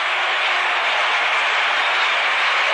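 Baseball crowd at Game 5 of the 1967 World Series, Cardinals versus Red Sox, applauding as left fielder Lou Brock comes up to bat; a steady, dense wash of clapping and crowd noise runs evenly throughout without pause.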